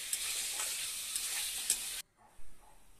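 Lentil batter with Kashmiri chilli and a little sugar frying in a pan while being stirred; a steady close sizzle with scraping strokes for about two seconds, then a brief drop and a quieter sizzle.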